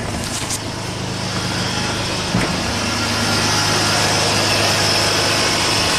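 A Nissan Xterra engine idles while warming up, with a fault code for a lean mixture and a non-original mass airflow sensor; a steady loud low rumble with a brief clunk, no talking.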